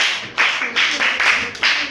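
A classroom of pupils claps for a girl, several short bursts of group clapping in an uneven rhythm, close and moderately loud, with a faint voice underneath.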